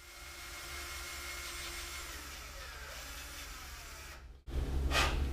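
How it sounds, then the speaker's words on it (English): A DeWalt cordless drill turns a 5/16 by 24 tap into the end hole of a cast iron tiller engine crankshaft, giving a steady close whir that cuts out briefly and then resumes louder. "I'm using my drill and a 5/16 by 24 tap to tap out the hole in the end of the crankshaft"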